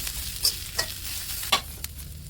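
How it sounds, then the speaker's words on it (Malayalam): Fried squid tossed into a sizzling masala in a pan and stirred, with a steady frying hiss and a few sharp spatula scrapes and clatters against the metal, close by, no voices. "നമ്മൾ ഫ്രൈ ചെയ്ത് വെച്ച കൂന്തന്നെയും കൂടെ ഇതിൽ തട്ടി കൊടുക്കാം ശരിക്കും ഒന്ന് ഇളക്കുക"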